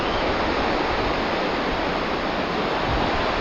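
Monsoon water rushes over the dam at Chikliholi Reservoir near Coorg, a loud, dense, continuous roar heard close up with no break.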